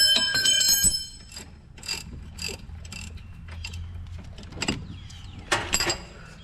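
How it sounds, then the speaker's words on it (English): A ratchet works a bolt loose on the front strut of a 2005 Nissan Sentra, with a series of sharp metallic clicks and clanks in short bursts, close up and without talk. "we're just loosening up this one bolt"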